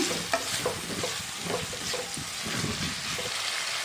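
Raw prawns fry in a pan for a prawn and bitter gourd masala curry, with a steady close sizzle and repeated scraping stirs throughout, no voices.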